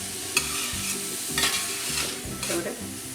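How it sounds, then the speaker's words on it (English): Food for pasta sauce sizzles steadily in a hot pan while a utensil stirs and scrapes a few times, with a low hum underneath. "And that sizzle?"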